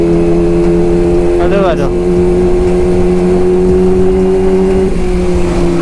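A Honda CBR motorcycle with a racing exhaust holds a loud, steady engine drone throughout, with a brief pitch sweep and a short voiced exclamation near the middle.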